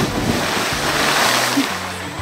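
A person cannonballs into blown-out swamp water, giving a loud, close rush of splashing and churning water that fills the moment and then slowly settles.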